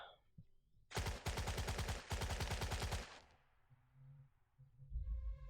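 Defensive machine-gun fire in the Valor & Victory Arnhem DLC war game rattles as two rapid, evenly spaced bursts, loud and close, then trails off into quieter game sounds.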